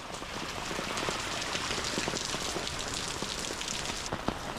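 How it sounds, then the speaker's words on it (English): A fast-flowing river in Athens rushes like rapids, a steady, loud broadband wash of water with no pauses and no talking. "look at this river behind me coming down fast as like a rapid"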